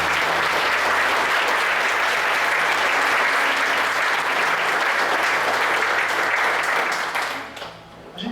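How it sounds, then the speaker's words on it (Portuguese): A church congregation claps loudly and continuously for several seconds during a worship service, the dense applause fading out near the end. "Vamos aplaudir Jesus."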